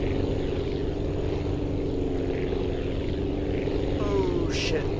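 In the Aviassembly flight game, a propeller aircraft engine drones in a loud, steady buzzing roar throughout, close and unbroken, with a brief voice or effect near the end.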